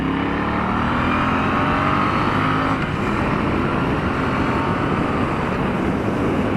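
2016 Triumph T120 motorcycle accelerating hard, a loud, continuous engine roar climbing in pitch through the gears, mixed with heavy wind rush from riding, with no voices.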